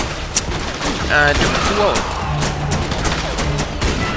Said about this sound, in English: So here I'm trying out the new sniper rifle.